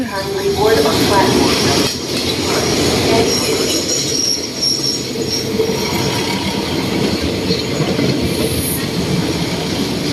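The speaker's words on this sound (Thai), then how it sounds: "เพราะว่ารถไฟกำลังเข้าสถานีนะครับ" A commuter train on Thailand's Maha Chai line rumbles and clatters steadily as it rolls into the station, wheels squealing faintly, with a brief louder screech near the end.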